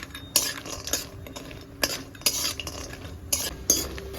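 Vegetables frying in mustard oil in a wok, a metal spoon scraping and clanking against the pan in irregular bursts over a soft background sizzle, close and fairly quiet.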